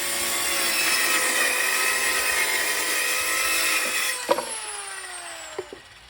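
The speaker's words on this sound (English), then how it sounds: "since I cut off that much off the slat, I know I need to cut that much off." A saw cuts steadily through a wooden bed slat for about four seconds as a sustained, loud rasp, then stops, followed by a couple of short knocks of wood.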